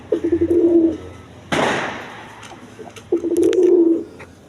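Pigeons coo at a pigeon farm, two bursts of soft low cooing, near and clear, separated by a sharp noisy burst in between, with no talking.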